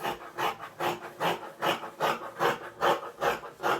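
Scissors snip through excess fabric while a sweatshirt is cut out, giving a steady run of about nine rhythmic rasping cuts, close and moderately loud, with no talking.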